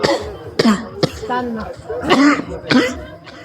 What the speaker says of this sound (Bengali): কাশি তুলে দিছে